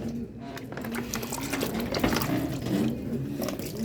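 Water splashes and trickles steadily into containers in warm outdoor weather, a continuous close pouring with faint clinks, while a person speaks softly in the background.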